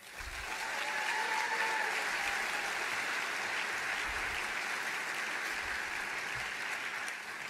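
Sustained audience applause at a 2017 commencement address, a steady, dense wash of clapping that holds at full strength for the whole stretch before easing slightly at the end.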